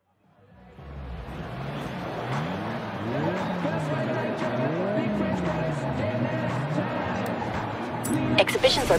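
A race car in Forza Horizon 3 fades in and roars around an asphalt circuit, its engine note climbing and dropping through gear changes, with tire squeal near the end. A voice talks over it.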